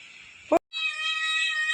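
A single short cat meow, close and clear, against a quiet background with a steady high electronic tone.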